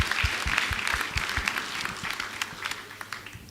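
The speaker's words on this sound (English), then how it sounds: "If we could give them a round of applause." Audience applause at a school's 60th anniversary celebration, a crowd clapping steadily and fairly close, the individual claps clear at first and then thinning slightly as it continues.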